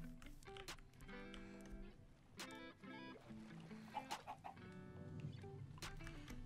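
Minecraft chickens clucking repeatedly in a game world near water, a busy run of short pitched clucks layered with other game sounds, fairly close and steady throughout.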